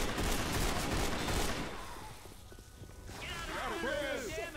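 Rapid, dense gunfire from the zombie shooter Left 4 Dead 2 crackles loudly for about two seconds, then drops away into quieter game noise with squealing, chirping effects near the end.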